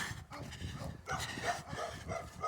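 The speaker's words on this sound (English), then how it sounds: "The dogs will continue to bark because they're on a chain all day." Dogs kept on chains bark repeatedly at a moderate distance, short yaps and barks scattered across a busy outdoor background.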